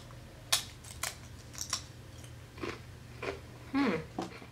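Crunchy sweet Thai taro chips made with sugar, palm oil and salt are bitten and chewed up close, a series of irregular crisp crunches against faint room noise.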